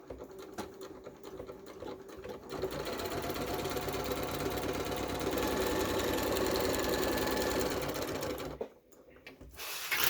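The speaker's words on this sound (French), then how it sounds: "vous faites des points d'arrêt au début et à la fin de votre couture" Sewing machine running steadily on a seam for a simple multi-purpose storage organizer, with backstitches at the start and end; a dense, continuous mechanical whirr builds and holds for several seconds, then stops abruptly, with no one talking.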